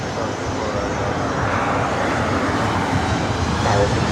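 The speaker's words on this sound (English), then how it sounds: "Second up is Southwest Airlines Flight 4212 heading to San Antonio, Texas, 737-700." A Southwest Airlines Boeing 737-700 takes off from runway 24 right at LAX, bound for San Antonio; its engines give a loud, steady, broadband roar that holds for the whole stretch with no break.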